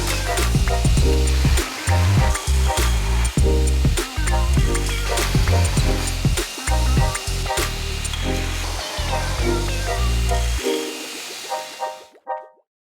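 An angle grinder bites into forge-welded steel layers, removing excess weld in loud harsh bursts with brief pauses between passes, then spins down and stops near the end.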